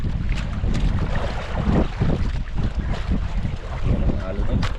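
Big sea waves surging around a small fishing boat during a hard haul at sea, a steady rush of water and wind noise close to the microphone with dull thumps against the hull.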